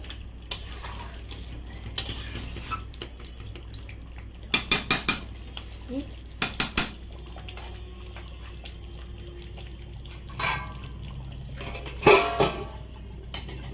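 Mutton curry being stirred in a metal pot, with sharp clinks and scrapes of a spoon against the pot in short clusters over a low kitchen hum, close by and with no speech.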